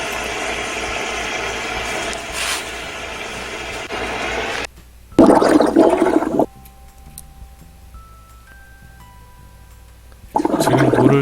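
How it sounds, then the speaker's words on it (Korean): Water bubbling and gurgling up from freshly dug ground over a leaking pipe beside a bathroom in a Yongin house during leak detection. Rough, rushing bursts come and go, with a quieter stretch of faint steady tones between them. "물이 좀 고이면서 이렇게 보글보글 이제 올라오는 소리가 나오죠"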